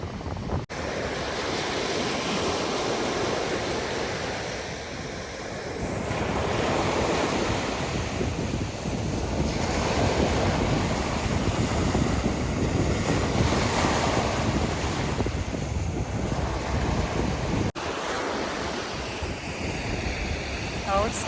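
Sea waves surge and wash onto the shore in steady, overlapping rolls, with wind buffeting the microphone throughout.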